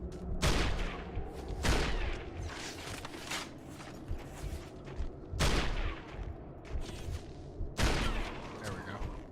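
Dense gunfire in the Resistance: Fall of Man video game, a chaotic battle with sharp shots and loud bursts recurring every couple of seconds over a constant rumble of combat, with no talk.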